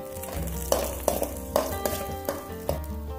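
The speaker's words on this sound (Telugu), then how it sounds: "ఇలా కొంచెం ఉల్లిపాయ వేగగానే వెల్లుల్లిపాయ, దంచుకున్న వెల్లుల్లిపాయ వేసుకుందాం." Onion and crushed garlic frying in a pan, a continuous sizzle with repeated sharp clinks of a spoon stirring against the metal, close and moderately loud over a low hum.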